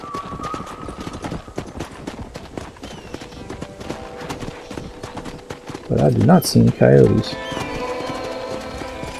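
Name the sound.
horses' hooves in video game Red Dead Redemption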